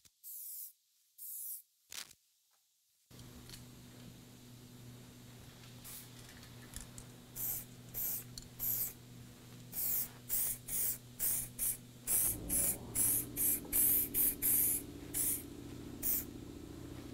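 Short bursts from a 2K aerosol spray can laying white paint onto a car, a few quick hisses at first, then after a quiet stretch a run of repeated spray passes over a steady low background hum.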